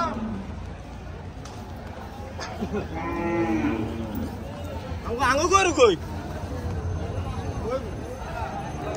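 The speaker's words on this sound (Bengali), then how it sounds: "ফ্রিজিয়ান জাতের গরু" Friesian cattle at a busy village cattle market in Noakhali give two drawn-out moos in quick succession, the second louder and closer, over a steady murmur of crowd noise and people talking.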